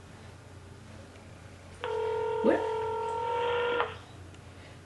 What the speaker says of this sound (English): We just gotta wait for Jay to pick up the phone.